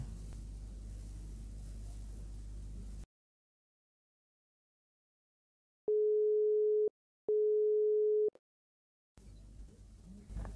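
WhatsApp outgoing call ringback tone on a phone: two steady, evenly pitched beeps about a second long, separated by a short pause, loud and alone after a stretch of silence, with faint background hiss at the start and end.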